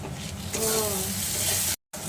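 Spicy Bengali lote fish jhuro (Bombay duck) frying in oil in a pan gives a steady close sizzle, with a brief voice in the middle and a short dropout near the end.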